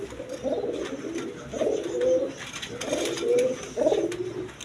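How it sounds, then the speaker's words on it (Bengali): A pair of Rasgolla pigeons coo close by in repeated soft, low, throaty phrases about a second apart, with faint background noise. "এক পেয়ার রাসগোল্লা কবুতর আছে দেখেন কোয়ালিটি সম্পন্ন কবুতর"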